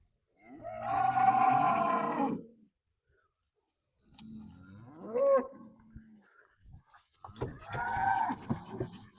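Cows moo loudly in long, low drawn-out calls, three separate bellows with brief quiet gaps between them.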